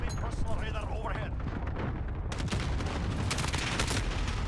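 Rapid gunfire in Call of Duty Modern Warfare multiplayer, dense bursts of shots and blasts filling the scene, loud and continuous, with game voices mixed in.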